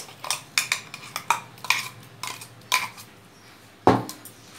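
A spoon stirs freshly ground masala into raw chicken in a bowl, with repeated close clinks and scrapes of metal against the dish in an uneven rhythm and one heavier knock near the end.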